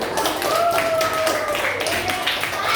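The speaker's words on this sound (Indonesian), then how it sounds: "kita kasih tepuk tangan dulu untuk Zikri" Classmates clap for a student in a primary school maths lesson, a steady burst of applause in a classroom running the whole clip.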